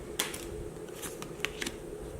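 Slightly slippery Lavish Earth oracle cards shuffle quietly, giving a few faint, brief riffling clicks over a soft room hush.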